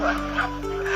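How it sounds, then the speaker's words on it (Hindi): A dog barks once, a short, close bark over a steady low hum in the background. "कुत्ता भौंक रहा है।"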